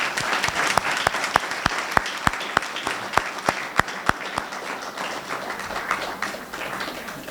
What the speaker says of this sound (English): Round of applause for our current seniors.